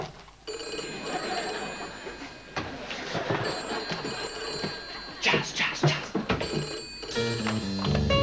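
A telephone rings in a comedy sitcom scene, its repeated bell tones running across the clip over busy background noise, with no speech.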